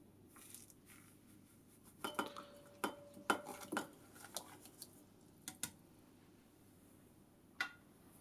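A metal utensil stirring sodium sulfate into a water-based remjet removal solution in a container, a few quiet clinks and scrapes clustered together, then scattered taps against a faint background.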